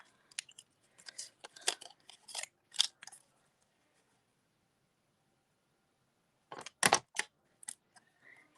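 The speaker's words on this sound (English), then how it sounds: "I have one more of the large flowers to cut out." Scissors cutting out a large paper flower: two bursts of crisp, close snips, a rapid cluster of cuts at the start, a pause in near silence, then another quick cluster, no talk.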